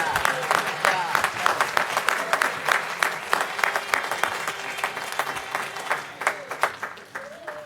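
People at a Fayetteville city council meeting applaud youth football state and national champions, with moderately loud, fairly sparse claps over a room murmur that continue steadily before tapering off.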